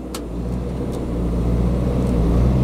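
A Kohler 10kW marine skid generator runs under heavy load, a loud, steady low engine drone with a constant hum and a slight rise in level, heard up close with no talking.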